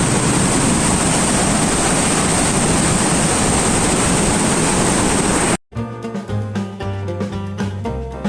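Loud, steady rush of water roaring without a break, then a sudden cut to music with a clear beat.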